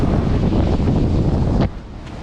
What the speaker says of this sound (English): So you got about almost 30 knots of wind, right?